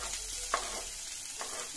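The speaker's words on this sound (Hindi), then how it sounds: "प्याज मिर्चा अदरक वो पहले भून लेना है आपको" Chopped onion, green chilli and ginger frying in a pan, a soft continuous sizzle broken by two brief scraping stirs of a spoon.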